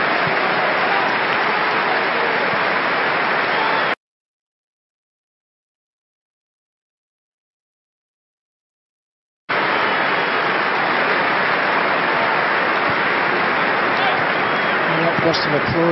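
Broadband applause from a stadium crowd at a football match between a Manchester United 08 XI and a Michael Carrick All Star XI, a loud steady wash in two long stretches separated by a gap of silence.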